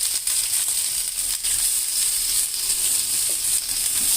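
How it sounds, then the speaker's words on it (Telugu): Green chillies sizzle in hot oil in a home kitchen pan, a steady, bright hiss with small crackles and pops running continuously and fairly close. "దీంట్లో నూనె పెట్టి పచ్చిమిర్చి వేసాను"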